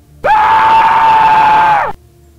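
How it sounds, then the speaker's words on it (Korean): A single sustained scream rings out as a sound effect in a horror radio story, loud and steady for nearly two seconds before cutting off abruptly, with no talk over it. "후임은 그 말을 자세히 듣지 못하고 바로 비명을 질렀다더군요"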